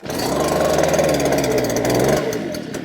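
A STIHL BG 86C gas leaf blower catches after a pull and runs close by with a rough, steady two-stroke drone, then dips and sputters near the end.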